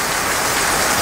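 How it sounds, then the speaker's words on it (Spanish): Heavy torrential rain pours steadily in a mountainous area, a dense, continuous hiss with no pauses or voices, loud and close throughout. "Y aparente y alegadamente la lluvia aprieta,"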